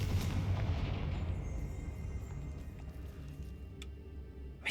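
Confringo blasting spell in Hogwarts Legacy: a loud, booming burst at the start that rumbles and decays over several seconds, with a couple of faint sharp pops near the end.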